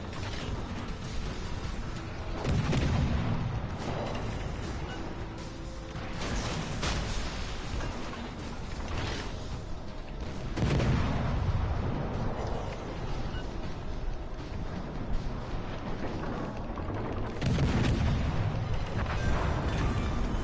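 Ship cannons fire in the naval video game World of Warships Legends, with several heavy booming salvos spaced a few seconds apart over constant mechanical rumble and game noise.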